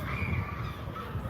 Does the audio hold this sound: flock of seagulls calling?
yes